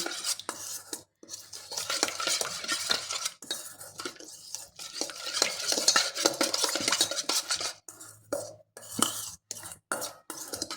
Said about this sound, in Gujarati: સાથે જ આપણે એક લીંબુ જેટલો રસ ઉમેરીશું બધા જ મસાલાને આ રીતે સરસ મિક્સ કરી લઈશું